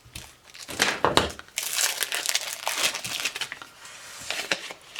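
A roll of patterned craft paper is unwrapped, its plastic packaging crinkling and crumpling in loud, close, continuous bursts.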